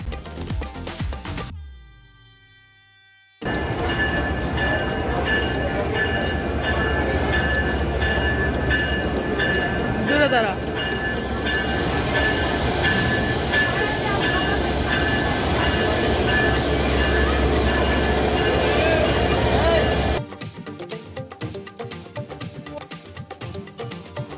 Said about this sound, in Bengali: আমাদের ট্রেন টার্মিনালে ঢুকে পড়েছে